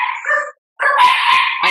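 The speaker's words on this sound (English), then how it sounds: "I apologize for my dogs." Dogs bark loudly and close by indoors, two bursts of sharp yelping barks split by a brief pause, with no talking over them.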